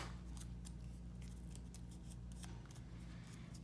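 Scissors snip through decorative cording while a journal is being embellished, a run of quick, crisp cuts repeating close up over a steady low background hum.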